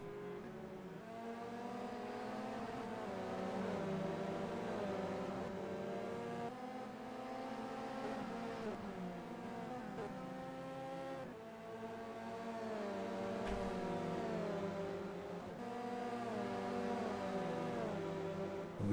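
Touring race cars lapping the Brands Hatch circuit in an ETCC round, engines revving steadily and shifting through gears as several cars pass, loud and continuous with no talk.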